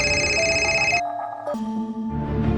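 An old-style telephone bell rings in rapid trilling bursts, loud and close, then pauses briefly before ringing again, alone without talk, in a horror story.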